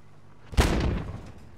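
Gunfire in the video game Squad near a train yard: a single loud, booming shot with a sharp onset and a long rumbling tail, heard alone.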